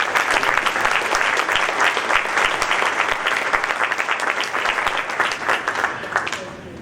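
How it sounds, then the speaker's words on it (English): Sustained round of crowd applause at a senior athletic breakfast, dense and fairly close, with voices mixed in under the clapping before it thins out at the end. "Let's give them another round of applause."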